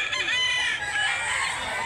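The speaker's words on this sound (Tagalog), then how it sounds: "Magandang manok." A rooster at a poultry market in Mantalungon, Barili, Cebu crows in a loud, close, drawn-out call mixed with clucking, with no voices.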